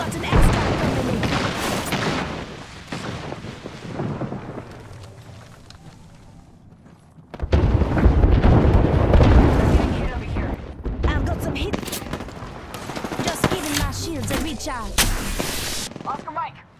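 In an Apex Legends match, a frag grenade bursts amid gunfire, with dense, loud, booming blasts and rapid shots coming in two heavy stretches, separated by a quieter lull, with a game character voice talking at times.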